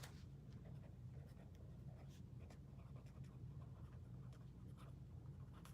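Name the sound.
pen writing notes at a desk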